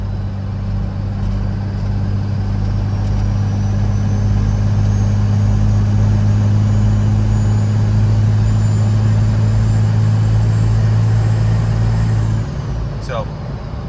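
A pickup truck towing a heavy trailer pulls hard under throttle, a loud steady engine drone with road roar holding for about twelve seconds before easing off abruptly near the end.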